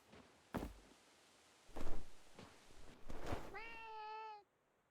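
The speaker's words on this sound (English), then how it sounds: "Why did I just hear a cat?" A cat gives one drawn-out, clear meow near the end, following a few soft thuds like footsteps or a door in a quiet room.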